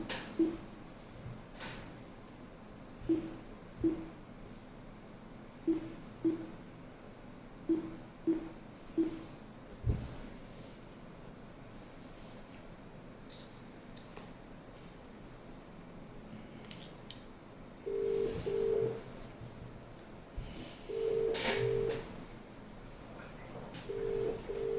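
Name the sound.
phone call being dialed through Crestron Mercury conferencing unit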